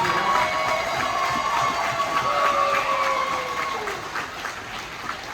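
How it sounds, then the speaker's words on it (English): A large outdoor crowd applauds steadily and loudly at a street naming ceremony in Oakland, California, with dense clapping and some whistles or cheers across the whole span, easing slightly toward the end. "Give him a round of applause."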